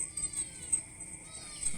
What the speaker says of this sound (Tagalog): Paring kuting na rin, wala nang katigil-tigil ang ingaw.